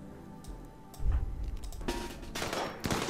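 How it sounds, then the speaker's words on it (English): Colonists in RimWorld shooting at training dummies, heard as scattered small-arms shots and clicks over a low rumble, with several sharp cracks toward the end. "they're going to stop and start shooting these dummies"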